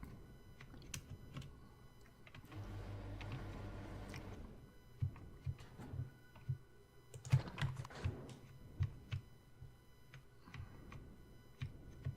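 Computer keyboard keys tapped to steer a character in a video game: quiet, irregular clicks and taps, close by, with a soft muffled rumble early on and sharper scattered keystrokes later.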